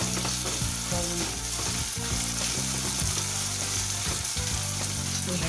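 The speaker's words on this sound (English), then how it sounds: "So let these onions be fried until they are golden brown." Chopped onions sizzle hard in hot oil on a high flame, the base for a chicken biryani, with a steady dense crackle and occasional scraping stirs throughout, no voices.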